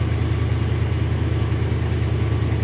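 A 1976 Ford F250 with a 390 V8 idles on a cold start, a loud, close, steady low rumble with an even pulsing beat throughout.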